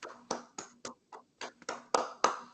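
A single person claps nine times in an uneven rhythm, the sharp close claps spaced irregularly and growing slightly louder toward the end, with a quiet room behind them and no talk.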